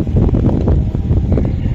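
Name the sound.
wind blowing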